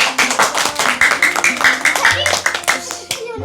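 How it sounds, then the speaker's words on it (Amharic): A group clapping for a contestant at a home quiz game, quick irregular handclaps sustained for a few seconds, close and lively, with voices mixed in. "አጨብጭቡላት"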